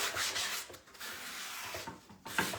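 Sandpaper rubbing down the wooden surface of an old chair before painting, scratchy back-and-forth strokes in a few close passes with brief pauses between them.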